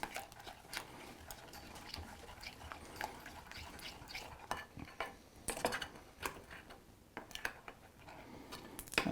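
A utensil scrapes and taps against the side of a pan as butter melts for a caramel-like dessert mixture, with soft, irregular clinks and scrapes, fairly quiet and close.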